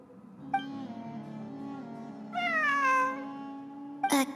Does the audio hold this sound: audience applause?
no